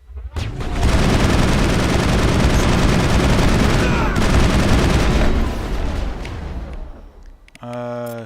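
Gunfire in Mass Effect 1 side-quest combat, with a dense, loud, continuous barrage of shots and impacts lasting several seconds, then fading, followed by a brief electronic tone.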